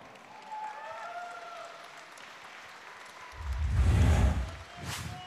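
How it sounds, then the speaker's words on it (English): A crowd at an MMA event applauding both fighters after a submission win, a faint murmur swelling into a loud burst of clapping and cheering that fades, then a brief second flare. "Let's hear it for both fighters."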